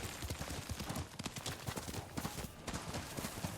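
Rapid rhythmic hoofbeats of a galloping horse in Ghost of Tsushima pound steadily throughout, close and fairly quiet, with no talking.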